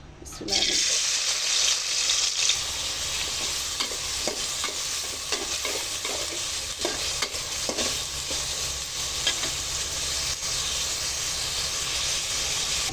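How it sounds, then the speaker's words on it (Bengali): Curry sizzles steadily in a pot of oil left from frying hilsa fish, a continuous loud hiss with scraping stirs of a spoon against the pot. "এদিকে আমি ভাজা ইলিশের তেল দিয়ে তরকারিটা বসিয়ে দিচ্ছি"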